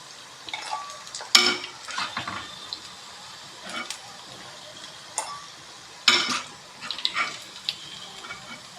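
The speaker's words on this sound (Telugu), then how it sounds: "ఇలా మొత్తం అన్నీ కూడా ఫ్రై చేసేసుకోవాలి." Batter-coated baby corn fries in hot oil for Manchurian, a faint sizzle under intermittent clinks and scrapes of a utensil stirring in the pan, close by and fairly quiet.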